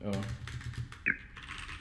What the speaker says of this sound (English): Now if you write, I'm typing